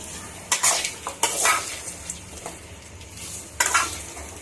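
Potatoes are stir-fried in a kadai, with a spoon scraping and clanking against the metal pan in several sharp bursts over a soft sizzle, close up and without talking.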